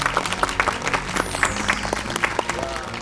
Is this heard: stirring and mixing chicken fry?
no